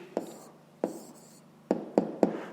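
Pen strokes scratch across paper during a fifth-grade maths exercise, about five short, separate scrapes at uneven intervals, close and fairly quiet.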